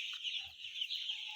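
Chickens cluck steadily on a poultry farm, a dense, close chorus of overlapping hen calls that carries on without pause for a second or so.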